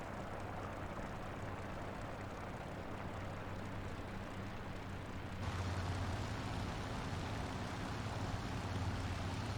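Constant low roar of a Yak-3 fighter plane engine in flight in War Thunder, steady and fairly loud, swelling slightly louder and brighter about halfway through, with no talking.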